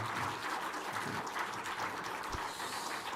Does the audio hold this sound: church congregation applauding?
yes